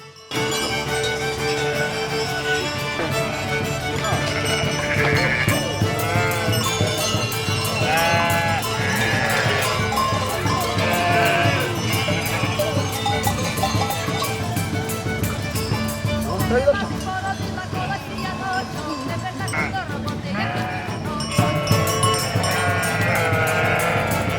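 A flock of Carpathian sheep bleats constantly in a dense, overlapping chorus, loud and close, while a voice speaks over the animals throughout.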